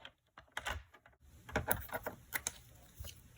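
A paper trimmer blade slices through cardstock with a few soft, close, quiet clicks and a brief scraping run as the cutter slides along, with no talk.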